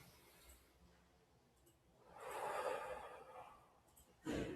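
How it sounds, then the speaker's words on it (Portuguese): A deep breath during a guided spiritual harmonic session, a long airy inhale swelling and fading, then a short sharp breath near the end, quiet and close. "faz uma respiração profunda aí"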